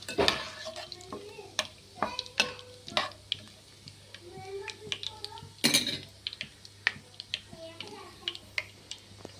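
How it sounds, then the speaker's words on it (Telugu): Whole spices, namely cinnamon, cloves, shahjeera and a bay leaf, fry in hot oil for an egg biryani, giving a soft crackle broken up by sharp clicks and clatter from a spoon and pan. "ఇప్పుడు దీంట్లో చెక్క లవంగాలు షాజీరా బిర్యానీ ఆకు ఒకటి వేద్దాం కొంచెం వేగనివ్వాలండి"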